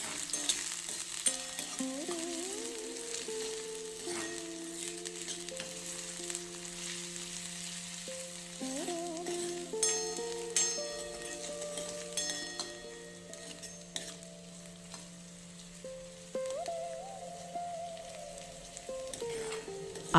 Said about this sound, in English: add the straight-cut chopped onions to the pan. Let the onion cook while stirring slowly.